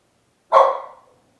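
A dog named Benny lets out a single short bark or growl-bark, near and fairly loud, fading quickly in otherwise silent surroundings.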